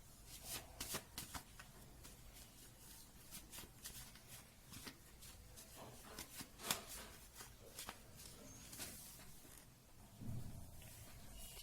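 Lenormand card deck being shuffled by hand, a quiet run of soft riffling and flicking bursts in uneven rhythm, close up with no talking.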